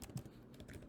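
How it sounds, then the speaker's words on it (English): Quick, close keystrokes on a computer keyboard while entering Swift code, a brief burst of several light clicks. "I'm going to go ahead and type this one out."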